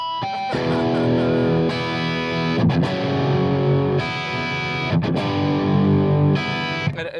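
Heavily distorted electric guitar chords ring out loud and sustained, changing every couple of seconds with brief scrapes between them, no voices.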